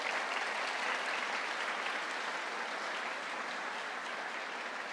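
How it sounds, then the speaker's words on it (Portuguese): Church congregation applauding its volunteers, a steady, dense wash of clapping from a large crowd that holds evenly for the whole stretch without a break. "uma salva de palmas para eles"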